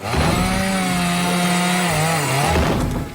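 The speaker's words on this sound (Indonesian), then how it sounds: "menjebol pintu masuk menggunakan gergaji mesin" A cartoon chainsaw loudly rips through a wooden front door with a continuous, buzzing, grinding snarl that holds steady for about three seconds before sputtering down at the end.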